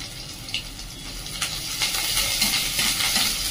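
Whole garlic, onion and ginger sauté in a pan, producing a soft hiss and sizzle that builds over a few seconds with light stirring scrapes, close and moderate in level.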